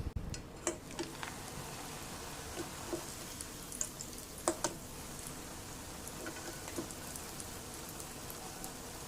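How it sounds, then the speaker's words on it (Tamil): About 100 grams of flattened rice (aval) frying in a kadai of well-heated oil: a steady, dense crackle scattered with sharp pops and sizzles at moderate level, with no talking. "அவல் 100 கிராம் எடுத்துருக்கிறேன், அதை பொரிச்சுக்கலாம்."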